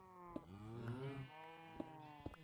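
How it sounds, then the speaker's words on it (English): Cows in a video game give a long, low moo and then a second drawn-out call, clear and fairly close, with a few soft clicks and no talk. "There are more cows."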